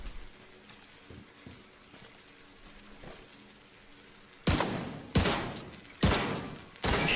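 Gunfire in The Division 2 rings out in four loud, sharp shots spaced about a second apart. They come after a stretch of quieter ambient noise and soft, distant pops.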